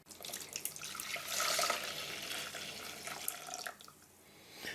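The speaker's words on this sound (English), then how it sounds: "I'll pour it into its container now" Cooled sauce for a chicken feet dish poured into a container, a soft, steady liquid stream with light splashing, fairly quiet and without talk.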